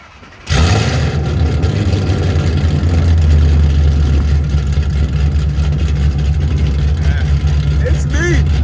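A Procharged V8 Ford Mustang GT with headers and straight pipes starts up with a sudden loud bark, then settles into a deep, rumbling, loping idle close by, with people talking briefly near the end.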